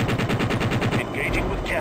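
Rapid bursts of helicopter cannon fire in the video game Jane's Longbow, a steady rattling string of shots for over a second, then a short lull with faint game tones and possible talk.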